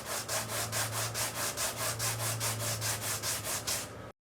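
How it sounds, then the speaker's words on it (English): Resin domino and rune pieces being sanded down with steady, rhythmic back-and-forth rubbing strokes, close and loud, about a dozen even passes over four seconds, with a steady hum underneath and no talking. "So my next move is to sand these all down."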